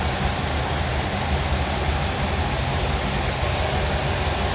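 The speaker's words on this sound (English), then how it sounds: "giving you a throttle stop to give it enough for the engine to idle at a specific RPM" A carbureted engine idles at a set speed after its throttle stop is adjusted, producing a steady, rough, continuous rumble heard close up with no voices.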